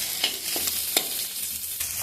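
Small fish frying in a pan over a very low gas flame, giving a steady soft sizzle with a few light scrapes and taps as the pieces are turned.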